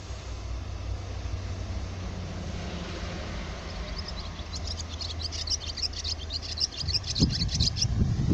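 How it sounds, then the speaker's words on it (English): A small bird chirps in quick, high bursts during the last few seconds, over a steady low background hum of a holiday park setting. "There's a noisy little bird there."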